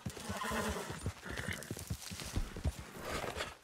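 Galloping horse in Red Dead Redemption 2, steady hoofbeats drumming close and fast under a brief whinny, with a wash of wind and game ambience behind.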